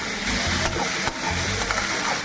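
Chicken, prawns and potatoes frying in a small amount of oil with garlic, ginger, onion and green chilli give a continuous soft sizzle, with occasional stirring scrapes and crackles.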